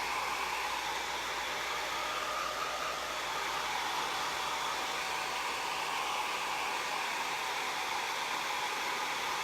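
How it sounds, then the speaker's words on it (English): A handheld dryer blows hot air over freshly printed ink on a t-shirt, a steady, even whooshing hiss that holds constant and close for the whole stretch. "I'm going to dry it real quick."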